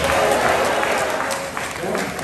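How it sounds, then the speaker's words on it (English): A church congregation at a thanksgiving memorial service claps hands together, a continuous busy patter of many hands with crowd voices and cheering mixed in. "Let's clap your hands and shout"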